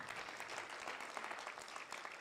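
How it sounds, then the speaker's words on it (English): Audience clapping at the Blue Economy Innovation and Investment Summit 2024, a dense, continuous patter of many hands heard from a distance, faint and even with no voices over it. "Give him a better clap."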